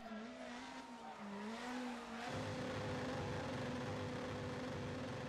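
A rally car in the DiRT Rally video game drives with its gear popped out: a tonal engine drone wavers and drops, then shifts to a steadier, louder rumble with a higher whine, continuous and close, with no voices.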